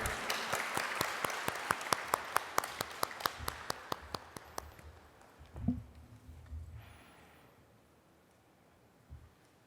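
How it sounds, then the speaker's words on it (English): An audience at a Sushumna Kriya initiation gathering in Sharjah, UAE, applauds with a steady run of rhythmic, evenly spaced claps that thin out and fade after about five seconds, leaving a quiet hall. "Please give a very big round of applause to Srinivas Garu."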